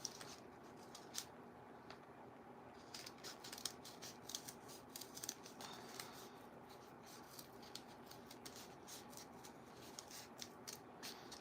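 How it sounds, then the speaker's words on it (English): Scissors cut through folded paper in quick, faint snips and rustles, a soft repeated crisp clicking with an irregular rhythm, close up and quiet, with no talking. "I'm going to start cutting"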